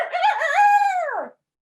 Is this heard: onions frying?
no